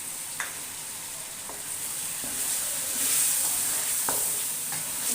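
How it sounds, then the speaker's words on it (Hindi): Ginger and green chilli fry in masala in a pan, giving a steady close sizzle broken by occasional scraping stirs. "इसी तरह मसाले के अंदर हम भूनते जाएंगे तो बहुत ही ज़्यादा मज़ेदार ये बनेगा।"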